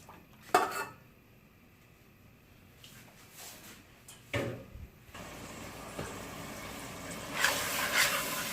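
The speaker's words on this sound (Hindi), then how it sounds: "इसको हम अच्छी तरह मिक्स कर लेते हैं, चलाते रहते हैं।" Beef mince (qeema) stirred in a pan, with sharp clinks and scrapes of a utensil against metal at irregular moments over a faint background sizzle, rising into a brighter fry toward the end.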